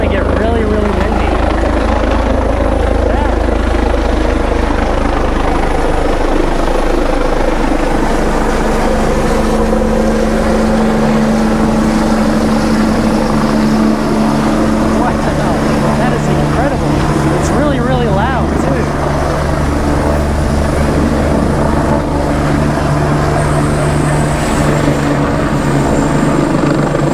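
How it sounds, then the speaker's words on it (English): A helicopter lands nearby with a loud, steady rotor roar and engine whine that fills the whole stretch, a strong continuous wash of sound with no pauses. "here comes a helicopter landing"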